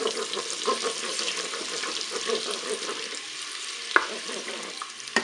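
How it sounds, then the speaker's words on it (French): Food is stirred with honey and duck magret inside a Cookeo multicooker bowl, giving a close, steady sizzle with soft scraping stir strokes and a sharper clack near the end. "on mélange tout ça."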